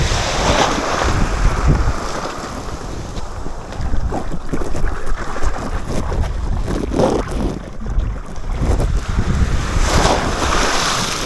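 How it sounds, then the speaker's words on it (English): Large ocean waves and strong wind batter a small aluminium tinny off Fraser Island, a loud continuous rush of surf and water slapping the hull, with wind buffeting the microphone throughout. "these waves are big!"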